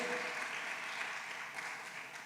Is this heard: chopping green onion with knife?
no